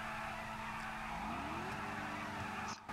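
Car in a GTA racing game doing a burnout before an illegal street race, a steady loud engine roar with tires spinning and a rising squeal, ending in a brief dropout.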